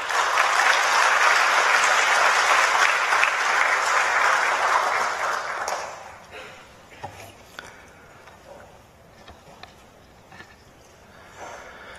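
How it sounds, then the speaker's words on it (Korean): A church congregation breaks into loud applause to welcome a preacher to the pulpit, then after about six seconds it fades out to a quiet room with faint footsteps and small movements. "나오실 때 우리 박수로 맞겠습니다."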